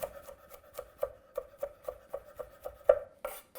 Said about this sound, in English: And I want to chop this garlic.